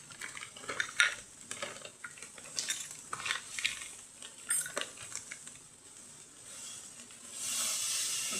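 A spoon scrapes and clinks against a pan while a spiced cheese mixture with salt and garam masala is stirred, in irregular close knocks and scrapes, with a soft hiss building toward the end.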